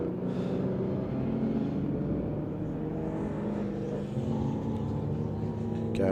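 A Datsun 260Z race car runs around the Winton circuit during a regularity session, its engine a steady loud droning note that holds throughout, with a hint of another car nearby.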